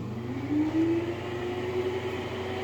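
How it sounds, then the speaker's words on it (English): A shop vacuum switched on through a CNC machine controller, its motor steadily whining and rising in pitch as it spins up, then holding a constant drone at moderate loudness with no voices. "Then start the vacuum, which is M8."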